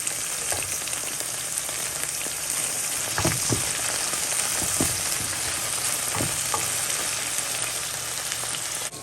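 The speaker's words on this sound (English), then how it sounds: "So just allow it to saute just for about 2 minutes, goodies. And I'm going to add some minced garlic." Vegetables and minced garlic sauté in a pan, a steady crackling sizzle close by, dotted with a few soft stirring knocks, continuous throughout with no talking.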